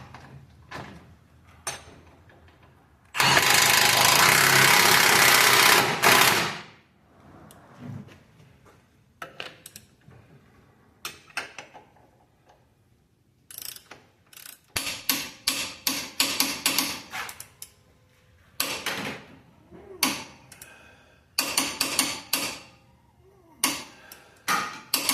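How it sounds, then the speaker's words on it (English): Suspension bolts being tightened on a 2007-2011 Jeep Wrangler: one long, loud, harsh burst of tool noise, then repeated rapid bursts of close metallic ratcheting clicks separated by short pauses. "got both our bolts in, then we'll just tighten them up"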